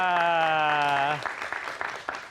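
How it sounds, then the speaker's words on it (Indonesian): Studio audience applause on a political talk show: a sustained musical tone with a voice over it fades out after about a second, then scattered clapping follows, thinner and uneven. "Tepuk tangan dong untuk kita semua."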